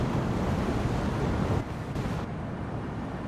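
Rushing water from a river and waterfalls in the dinosaur survival game The Isle, a steady dense roar throughout that eases slightly after the first second and a half, with no voices.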